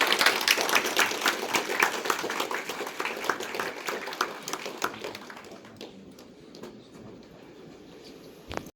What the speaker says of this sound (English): We request you to kindly give a big round of applause once again.